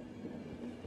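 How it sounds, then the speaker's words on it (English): A train in The Final Station, a zombie-themed train game, starts moving again, giving a steady low rumble and hum from the rail cars that stays even and continuous throughout, with no talk over it. "Oh, look! I made the train go again."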